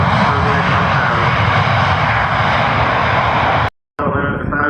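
An airliner landing at Manchester Airport with reverse thrust engaged and air brakes out gives a loud, continuous engine roar that holds steady for several seconds before a brief cut and a resumption.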